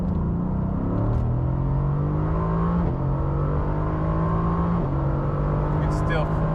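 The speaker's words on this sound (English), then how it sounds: "You can still hear the engine very well." Mercedes-AMG GT C convertible engine droning while driving with the roof open, a steady rising hum through gear changes mixed with wind noise, with a voice talking over it.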